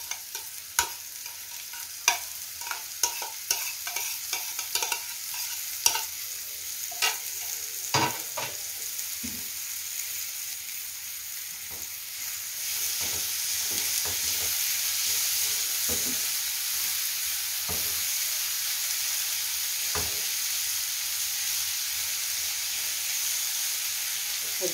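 Onion and peppers fry in a pan, with a steady sizzle and hiss and scattered clinks and scrapes of stirring that fade into a continuous bright sizzle in the second half.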